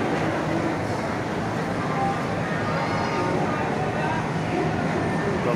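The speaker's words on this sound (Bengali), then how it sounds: "এই কবিগুরু এক্সপ্রেস ছাড়ছে।" The Kabiguru Express pulls away from a station platform with a continuous broad rumble, steady and fairly loud throughout, over a busy crowd murmuring in the background.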